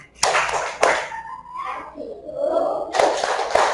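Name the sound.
group rhythmic clapping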